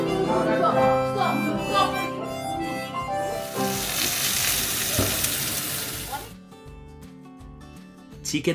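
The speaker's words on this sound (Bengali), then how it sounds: "রান্না করার জন্য আলুগুলোকে আগে ধ্রুবদা ভেজে নিচ্ছিল" Potatoes sizzle and crackle as they fry in a pan, a steady broadband hiss under music and chatter that fades out near the end.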